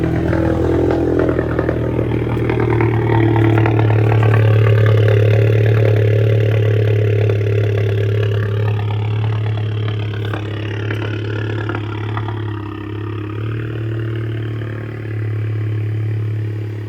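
A 2017 Volkswagen GTI with a Mamba GTX 3071R hybrid turbo on a Mark 7 MQB platform turns over from cold and settles into a loud, steady idle with a deep low hum and light clatter throughout.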